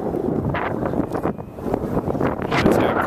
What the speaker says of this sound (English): The wind's probably horrible because it's really windy.